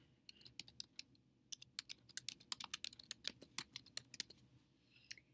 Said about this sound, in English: you simply type in your name as a digital signature